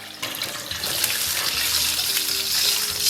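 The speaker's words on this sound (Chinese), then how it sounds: "咱们给锅里边来点82年自来水" Tap water gushes into a wok holding fried pig trotters and soy sauce, a loud, continuous splashing pour that starts abruptly and holds steady to the end.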